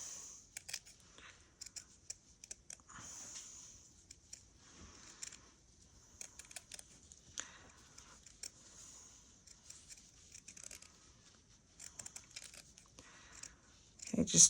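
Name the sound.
scissors trimming fabric for a stitched bag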